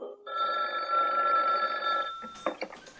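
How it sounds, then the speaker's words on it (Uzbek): A telephone bell rings in a single sustained, bright electronic tone lasting about two seconds, close and clear, then cuts off into brief rustling. "Efendim, saqchi boshlig'i telefon qilibdi."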